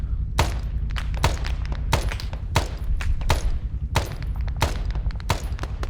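Machine gun and infantry weapons fire during a live-fire exercise, a rapid series of loud, close gunshots in irregular bursts with deep thumping impacts, continuing steadily throughout.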